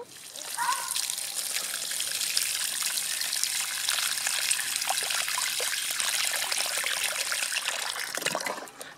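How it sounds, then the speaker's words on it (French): Water pours steadily into a watering can from a tap, a continuous trickling gush with a brighter start and a slight change in tone as the can fills, close and fairly loud throughout. "Il faut que j'aille remplir mon arrosoir."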